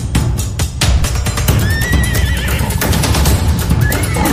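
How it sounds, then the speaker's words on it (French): Shrill, loud whinnies and neighs from zebras or horses under lion attack on the Serengeti, several overlapping calls rising above a dense, thudding commotion of hooves and scuffling. "Les hennissements étaient assourdissants"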